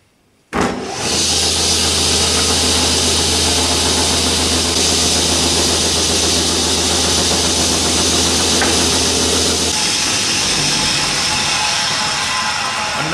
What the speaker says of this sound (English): I'm going to start by cutting my piece of plywood into strips 4 5/8 inches wide.